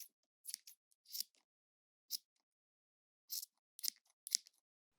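Scissors cutting hair at a salon, quiet crisp snips in small irregular clusters with silent gaps between them, close and faint.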